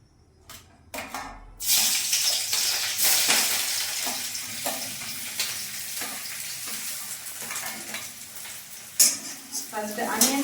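Onion and chopped vegetables fry in hot oil for egg hakka noodles, a close, steady sizzle broken by repeated stirring scrapes and clatters, with a few louder bursts of hissing.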